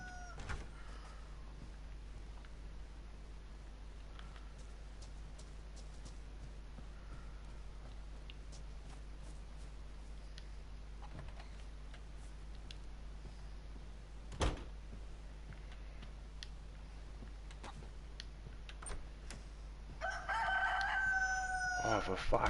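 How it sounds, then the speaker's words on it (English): A rooster crows in the PS4 game DayZ, a loud burst near the end over a steady low hum and faint background noise, after a long stretch without a clear call. "you stupid rooster, shut up!"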